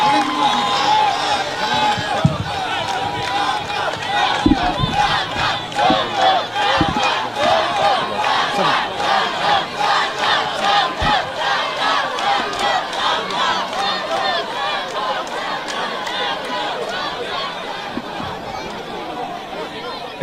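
A crowd at a school visit in Gambia cheers and chants continuously, a loud, dense roar of many voices with rhythmic clapping and shouting that holds steady throughout.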